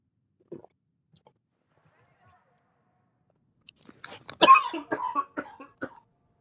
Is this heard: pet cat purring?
no